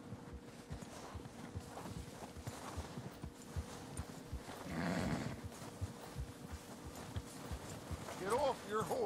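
Horse hooves clip-clopping in the Red Dead Redemption 2 video game, a faint irregular patter of steps under game sound and voices.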